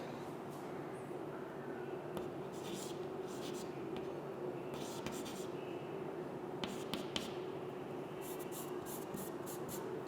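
Chalk or pen writing out a math formula during a class, soft scratchy strokes in short bursts over a steady background hum, faint and close.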